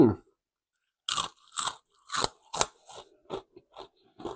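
Crispy Thai rice crackers (khao kriap) crunch loudly and close up in about ten sharp bites, evenly spaced after a brief pause, with no talking over them.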